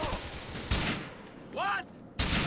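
Gunfire in the Grand Theft Auto IV video game during a battle at a construction site, several loud bursts of shots separated by brief lulls, with game sounds between them.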